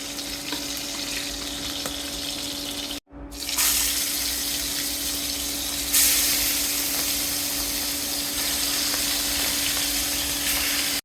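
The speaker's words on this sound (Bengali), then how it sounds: "একটু লাল করে ভেজে নেবো মাছটা। আমি ফেলবো এইভাবে ভেজে।" Whole fish frying in hot oil in a home kitchen, a steady loud hiss and crackle that runs the full length, briefly cut off once, then swells louder as more fish goes into the pan.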